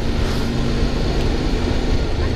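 Suzuki V-Strom DL 650 motorcycle ridden on a scenic road near Alfredo Chaves, engine drone and wind rumble loud and steady throughout, with no talk.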